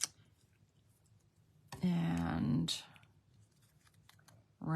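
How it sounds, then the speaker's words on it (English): Scissors snip through cardstock while trimming a floral leaf shape for a handmade card, a short close burst of cutting between quiet stretches, with a soft voice talking nearby. "Okay, so I'm just cutting it right here."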